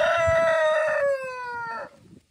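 An Ayam Ketawa laughing rooster, a smaller breed, gives one close, loud crow with a rising then falling, stuttering tone before it trails off.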